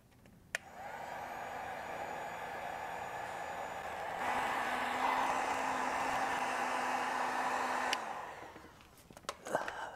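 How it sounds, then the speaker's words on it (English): A handheld heat gun blows hot air over heat-shrink tubing on GPS tracker wiring, a steady breathy roar that starts after a click, rises louder midway, then cuts off near the end. "And then just grab my heat gun here."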